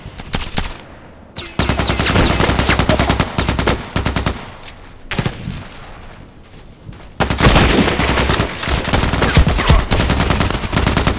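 Rapid automatic gunfire from the video game Contract Wars, loud dense bursts of shots filling most of the stretch with a brief lull near the start and short pauses in between.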